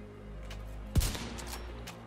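A single sniper rifle shot in the shooter game The Division 2, one sharp loud crack near the middle that decays quickly over a low background hum.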